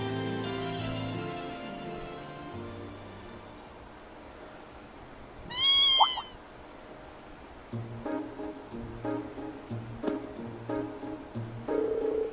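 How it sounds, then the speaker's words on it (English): A kitten in the video game Trails of Cold Steel gives a single short, clear meow amid soft background music, with a plucked, rhythmic tune picking up afterward. "what's the kitten doing here?"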